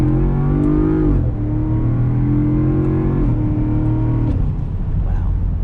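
A 2022 Land Rover Defender 110 Carpathian Edition accelerates hard, heard from inside the cabin: a loud, droning engine note climbs steadily, with several gear shifts that briefly drop the pitch before it rises again.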